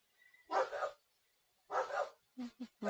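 Indoor dogs let out two loud, sharp barks, then a rapid run of three shorter yips, close to the listener with quiet gaps between.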